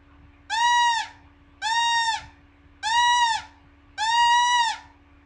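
A person imitates a squirrel's distress call with four evenly spaced, drawn-out whining cries of about a second each, separated by short pauses, close and clear over a faint steady hum.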